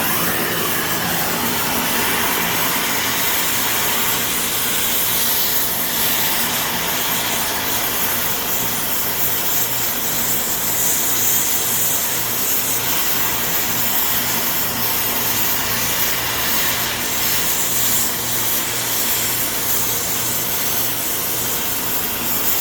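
Torch flame heating steel while building a custom chase rack, a steady broad roaring hiss held evenly at close range throughout, with no talk.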